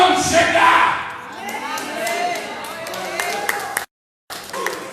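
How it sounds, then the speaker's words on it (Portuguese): A church congregation bursts into applause and shouts, claps and cheers swelling at first, then settling into lighter scattered clapping with voices mixed in, cut by a brief silence near the end. "Você crê, aplaude forte"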